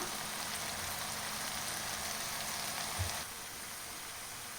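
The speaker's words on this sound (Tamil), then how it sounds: "தக்காளி நல்லா வதங்கி வரணும்" Tomatoes sautéing in a pan for spinach paneer gravy give a steady, close hiss and sizzle like light rain, continuous throughout and easing slightly toward the end, with no talking.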